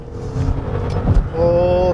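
A Maserati's engine hums steadily while the car is driven, a low drone with a rising tone near the end, under someone talking.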